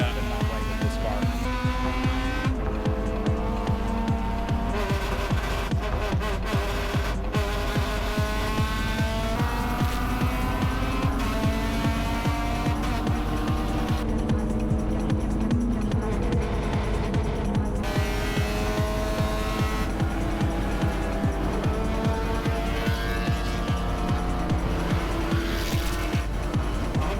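Race car with drive-by-wire trouble lapping a circle track, its engine roaring loudly and unevenly with repeated stumbles and dips in revs, a constant throbbing drone, and talk faintly under it.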